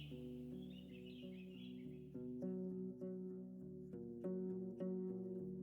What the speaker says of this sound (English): Dozens of birds live among the collapsed roofs. Their fluttering, singing, and squawking is free of worries.